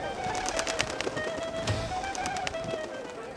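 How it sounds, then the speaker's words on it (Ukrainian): Pigeons gather in a busy old-town square in Dubrovnik, Croatia, with soft cooing and fluttering wingbeats amid a faint crowd murmur and scattered light clatter, all fairly quiet and distant. "За 15 хвилин до 12 голуби вже починають злітатися."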